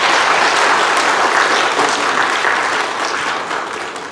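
A crowd claps loudly and continuously in a hall in Darjeeling, the applause tapering off slightly toward the end.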